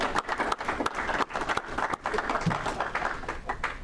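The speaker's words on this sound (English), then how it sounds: "let's give the committee another round of applause" Audience applause at a Rotary club meeting, a steady round of clapping from a room of members for a committee, filling the whole stretch at moderate volume with slight swells and dips.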